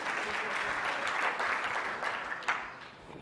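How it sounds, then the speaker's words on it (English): An audience at the Web 2.0 Expo in New York breaks into sustained applause, a dense wash of clapping from a room full of listeners that swells and then gradually thins out over about three seconds. "Clap that up because it's real shit."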